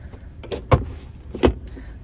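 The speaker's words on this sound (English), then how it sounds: "that extends out the centre armrest" A centre armrest in an Audi A5 1.8 TFSI SE coupe slides out with two short mechanical clunks about three-quarters of a second apart, close and fairly quiet in a still cabin.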